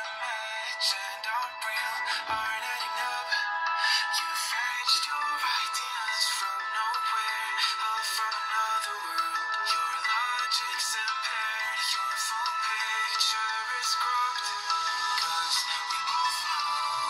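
Ringtone melody played through the tinny, thin-sounding built-in speaker of an iPhone 14 Pro Max clone phone, a continuous bright tune that runs steadily and close-up without any talking.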